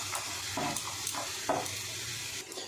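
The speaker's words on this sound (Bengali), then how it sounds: "এইভাবে একটু প্যানটা একটু কাত করলে তেল এসে যাবে, তেলের মধ্যে বাদামগুলো ভাজা হলে ভীষণ টেস্টি হবে।" Peanuts fry in oil pooled at the edge of a tilted pan, giving a soft steady sizzle with crackling pops and occasional stirring scrapes, fairly quiet and close with no talk.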